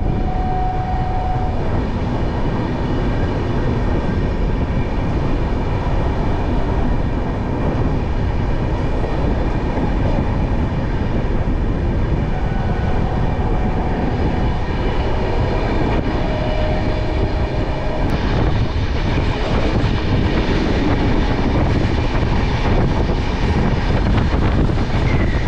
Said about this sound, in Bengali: প্রান্তিক থেকে ছেড়ে দিল আমাদের ট্রেন